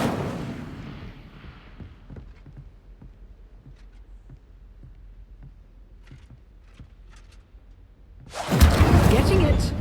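The Incendio fire spell in Hogwarts Legacy: after a quiet stretch of soft scattered ticks, a sudden loud roaring burst of flame erupts and holds strong to the end.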